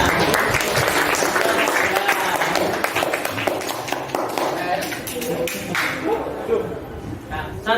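A classroom group of teachers claps steadily, dense and sustained clapping close by throughout, with faint voices mixed in toward the end.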